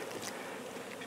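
Frenzied honeybees buzzing during a bee removal from a dresser, a steady dense insect drone close by with a few brief louder passes, no talk.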